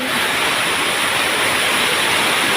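A natural waterfall in a forested mountain valley roars in a dense, unbroken rush of falling water, loud and close with no voices.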